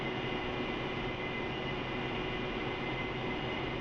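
An aircraft engine drones steadily while taxiing to the runway in an Iron Gauntlet mission game, a loud, even broadband roar with no change across the few seconds.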